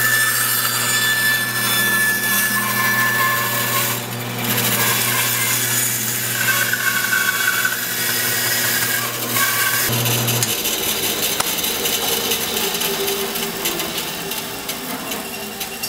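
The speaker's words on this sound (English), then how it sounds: "Make sure our bandsaw has stopped turning." A bandsaw cuts through a walnut bowl blank with a loud, continuous rasping whine over the motor's steady hum. The hum drops away partway through while the blade keeps rubbing and grinding.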